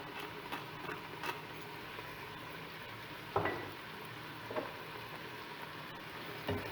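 Onions sauté in a pan with a soft, steady sizzle, faint and continuous, broken by a few light clicks of stirring.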